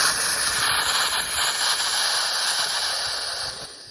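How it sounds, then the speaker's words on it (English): Steady, loud steam hiss pours continuously from an oxalic acid bee vaporizer being cleaned, with no talking and a slight fade at the end. "just letting all that steam clean this sucker out"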